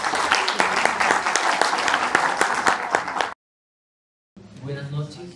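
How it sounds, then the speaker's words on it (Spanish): Audience applause welcoming a lecturer to a talk on probable cause and judges' powers, a loud sustained burst of many hands clapping that cuts off abruptly, followed after a pause by a voice speaking. "Lo recibimos con un fuerte voto de aplauso"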